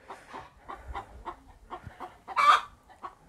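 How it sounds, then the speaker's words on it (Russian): A chicken in a shed clucks in a run of short, nervous calls and ends with one louder squawk. It is close, with faint background sounds and no talking. "Курица, ты чья? Ты тут яйца несешь?"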